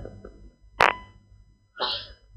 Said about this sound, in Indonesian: maaf nih saya bersin tadi